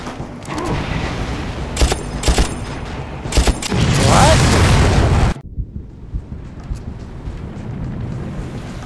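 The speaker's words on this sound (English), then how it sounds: "These explosions." In the video game Far Cry, a rapid series of loud, sharp explosions and bursts of gunfire, then a sustained roaring blast that cuts off abruptly into quieter rumbling.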